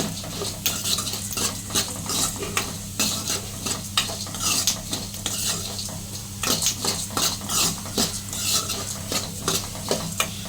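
Curry leaves fry in a pan over low to medium flame while being stirred continuously, producing a steady sizzle with frequent clinking and scraping of a spoon against the metal pan.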